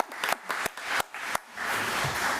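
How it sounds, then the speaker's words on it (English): A school board meeting audience gives brief, sparse applause: a handful of distinct claps followed by a short wash of scattered clapping. "Let's give Mr. Cubic a round of applause."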